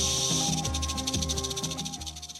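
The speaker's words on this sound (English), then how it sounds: "Its iconic rattle sends a warning to all to give it wide berth" A northern Pacific rattlesnake on Mount Diablo shakes its tail in a close, rapid buzzing rattle, a fast train of dry clicks that pulses steadily and fades slightly toward the end.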